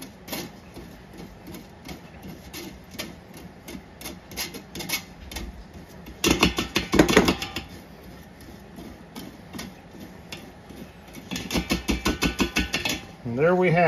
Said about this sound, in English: I take a spoon and just kind of mash them around. Shake it around a little bit